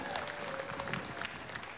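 A concert audience at a tribute music event applauds, a faint, continuous wash of many hands clapping at a distance, with a thin sustained tone running underneath.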